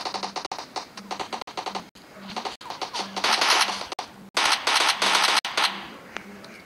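Rapid bursts of automatic gunfire in the video game PUBG Lite crackle in quick succession, separated by brief gaps, growing louder and denser toward the middle of the clip.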